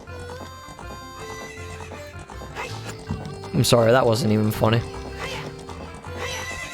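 A horse whinnies loudly in the middle of Zelda: Ocarina of Time gameplay, with hoof clip-clops and game sounds around it, and a person speaks briefly over it.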